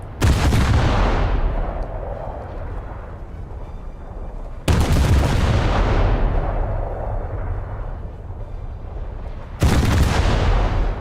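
Heavy cruiser 8-inch naval guns firing in World of Warships, three loud booming salvos at regular intervals, each with a long rumbling decay, no voices.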